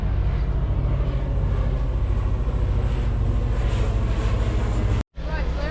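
A commercial airplane passes overhead with a steady, loud low roar and broad rushing noise. It continues without a break until a sudden cut near the end.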